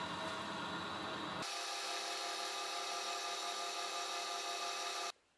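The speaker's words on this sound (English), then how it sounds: "Now I've got my favourite spot drill." A harsh, steady grinding screech of a spot drill cutting into metal runs for several seconds, then stops abruptly.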